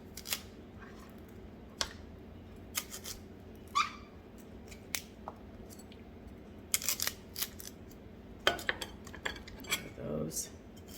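Knife cutting the core out of a cauliflower on a cutting board in a home kitchen, with scattered sharp clicks and knocks of the blade and cauliflower against the board, faint and intermittent over a quiet background.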